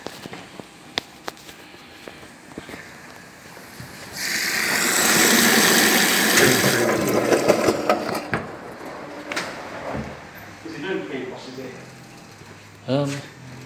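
A Primus R16 washing machine in a laundrette fills with water, a broad rushing gush swelling for a few seconds in the middle, then easing into lower churning and clunks with machine hum behind.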